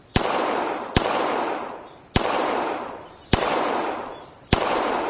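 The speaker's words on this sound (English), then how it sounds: "Moving on to the Staccato C2. This is the second gun in the game. I like that recoil impulse." Five sharp pistol shots from a Staccato C2 in a VR shooting game ring out about one second apart, each a loud crack trailing into a long decaying reverberant tail, with no talking.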